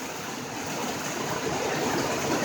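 Heavy rain pours onto city streets in Detroit, a dense, continuous broadband hiss of falling water that swells slightly toward the end, with no voices.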